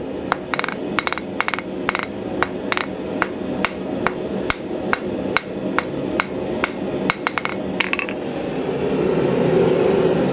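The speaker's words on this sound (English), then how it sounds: "So I'm just tilting that round, dive the hammer back towards myself." A hammer strikes a steel ring on an anvil in sharp, ringing blows, about twenty close metallic hits at a fairly steady pace, ending in a quick cluster before a low hum.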